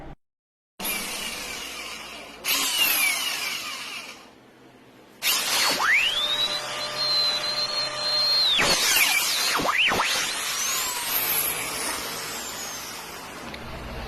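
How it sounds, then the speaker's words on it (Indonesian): A power drill whines up to speed and holds a steady high pitch while drilling a hole in a scooter's rear shock absorber, then winds down; a second short burst follows, with clattering and rumbling around it. "kita akan bor nanti"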